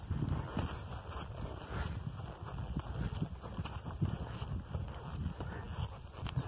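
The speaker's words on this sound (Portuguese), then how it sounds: "Estamos na roça hoje andando de cavalo" A horse's hooves clip-clop at a walking pace on a farm, a steady uneven rhythm of soft knocks heard up close over faint outdoor background noise.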